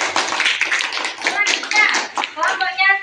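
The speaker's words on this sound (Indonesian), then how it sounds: "tepuk tangan untuk kelompok Zila" A classroom group claps for a presenting team, a steady, close patter of hand claps running throughout with children's voices mixed in.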